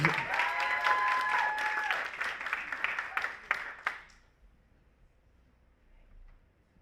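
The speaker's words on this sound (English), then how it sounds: "Give it up for all of these presenters again." Audience applause for presenters at an Ignite Talks event at MSU: a dense burst of clapping from a large crowd with some cheering, fading out after about four seconds into near silence.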